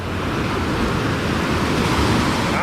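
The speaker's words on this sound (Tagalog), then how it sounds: "Ganun kalalakas ang alon dito" Strong sea waves crash and wash steadily onto Patitinan White Beach in Sagnay, Camarines Sur, a loud continuous surf roar with wind buffeting the microphone and no pauses.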